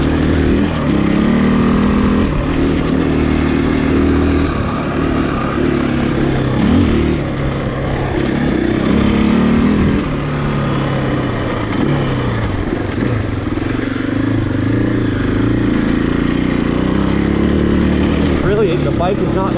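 A 2020 Husqvarna FE501S dual-sport motorcycle engine runs steadily while the bike is ridden, a continuous loud rumble with shifts in revs, and a rider talks over it throughout.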